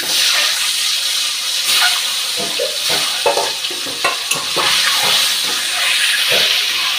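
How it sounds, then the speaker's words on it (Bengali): Egg rubbed with salt and turmeric frying in a pan, a loud, close, continuous sizzle with crackling pops and occasional spatula scrapes throughout, no voices. "ডিমটা ভেজে নিচ্ছি, নুন হলুদ মেখে রেখেছিলাম।"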